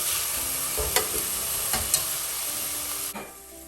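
Mutton chop ingredients frying in a pan until golden give a steady broadband sizzle, with a few brief stirring clatters and scrapes near and loud, and no voices.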